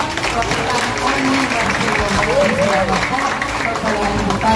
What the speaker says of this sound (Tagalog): Mas palakas po na palakpak.